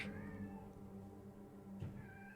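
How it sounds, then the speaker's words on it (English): A house cat meows indoors in two short, fairly faint calls at the start and near the end, over steady low background hum with no talk. "I'm so sorry that you can hear my cat"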